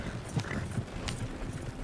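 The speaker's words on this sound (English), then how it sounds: "Damn it, John, you'll run the horses into the ground." Several horses gallop in the Western video game Red Dead Redemption 2, their hooves making a quick, rolling clip-clop at moderate distance over a faint background of wind and ambience.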